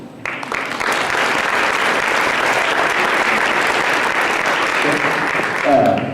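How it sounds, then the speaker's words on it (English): An audience at a junior high awards night gives students a round of applause that swells quickly and holds steady and loud, with a voice breaking in near the end. "would like to applaud you for your achievements in going to the contest"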